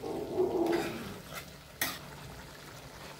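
Green chicken curry simmering in a kadai over a low flame, with a soft sizzle and a few scraping stirs and clinks of a utensil against the pan, then a quieter bubbling simmer.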